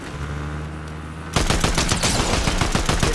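Video game gunfire, a sudden loud burst of rapid automatic shots that starts after a steady background hum and keeps firing to the end.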